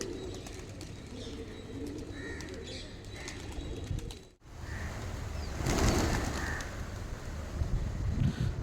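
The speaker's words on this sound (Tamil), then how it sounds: "சூப்பராக அழகாக பறக்குது. புறாக்கள் வந்து அவ்வளோ அருமையாக இருக்குது." Pigeons fly over a low-budget lodge in Triplicane, Chennai, with soft cooing and a burst of wing flapping against steady outdoor wind and street ambience.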